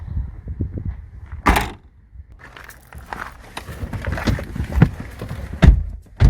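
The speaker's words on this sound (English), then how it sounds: "Hey, close the door, man." A door of a 2004 VW Passat Estate swings and shuts with a solid thud, followed by scattered knocks, shuffling and rattling nearby.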